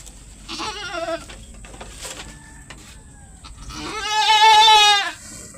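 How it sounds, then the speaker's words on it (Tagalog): A goat in labor bleats in two loud, strained calls, one early and a longer, louder one near the end, with quieter rustling and movement between them and no talking. "Laki ng kambing."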